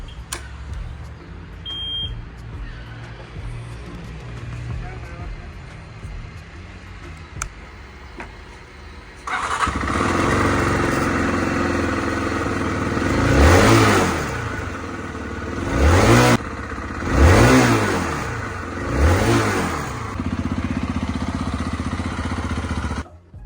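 A Zontes T310 motorcycle on its old stock double exhaust idles, then is revved hard in several sharp blips that rise and fall, loud and close, with no talking.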